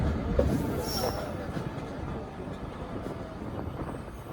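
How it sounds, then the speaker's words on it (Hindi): A railcar train on a Pakistan Railway line approaches with a low, steady rumble of wheels on track, fairly distant and soft, with faint background noise and no clear talking. "सामने से मुझे लग रहा है जी 102 डाउन सुबह रफ्तार रेलकार आ रही है"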